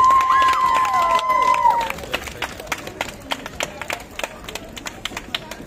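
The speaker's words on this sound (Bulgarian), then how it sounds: "Аплодисменти!" Scattered, sparse hand claps from an audience at a youth song festival in Varna, following a bright whistle-like tone at the start; the claps stay light and irregular rather than a full ovation.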